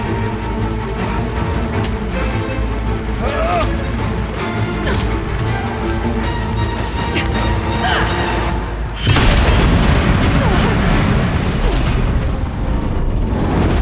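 Heavy booms and crashing impacts from explosive ammo in the video game Horizon Zero Dawn, one big loud blast partway through followed by rumbling debris and continued game noise.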